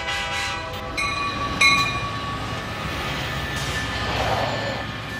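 A bullet train in an animated cartoon, a steady rolling rumble and rattle under sustained horn tones that swell and fade.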